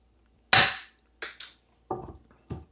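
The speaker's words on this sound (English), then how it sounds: "these screws are clearly a bit too long, so I'm going to clip them to size here" Overly long screws are clipped to size: a sharp loud snap, then a few quieter clicks and snips, each brief and isolated against near silence.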